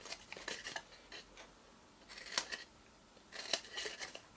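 Scissors snip notches into scored cardstock for a tiny tealight box, coming in a few separate bursts of short crisp cuts with pauses between, close and fairly quiet.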